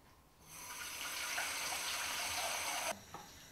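Water gushes steadily from a tap into a pot for pasta, a broad rushing hiss that begins suddenly and stops abruptly near the end.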